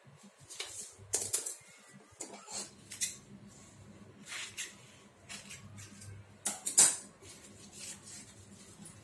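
Scissors cut a 6.5-inch fabric strip for a ladies' kameez with a run of sharp, irregular snips, some louder than others, close by and with no talking.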